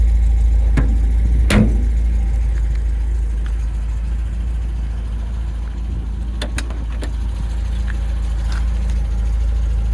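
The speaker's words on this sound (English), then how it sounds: "Nice steady tick over." MGB Roadster engine at idle, a steady low rumble close by throughout, with a few faint clicks and knocks over the top and no talking.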